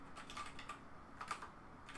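Someone types code on a computer keyboard with soft, quiet keystrokes arriving in uneven clusters against faint background noise.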